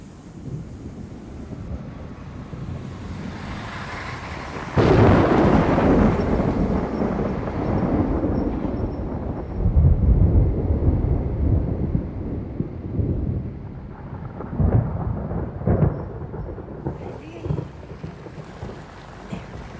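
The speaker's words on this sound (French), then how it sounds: "La tempête se rapproche." An approaching storm with gusting wind roaring against the microphone and deep rolling thunder swelling midway, loud and close, with no voices.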